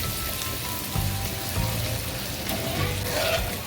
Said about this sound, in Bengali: এই যে আলুগুলো দেখেন কি সুন্দর ভাজা হচ্ছে